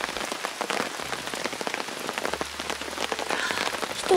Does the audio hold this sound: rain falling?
yes